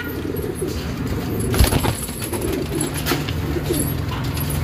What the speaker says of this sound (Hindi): ये जितने भी देख रहे हैं आप पूरे नीले साटिनेट कबूतर है ये।